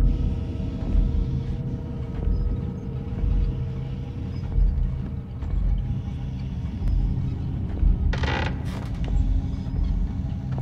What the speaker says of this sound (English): Yo, the floor is so creaky, bro.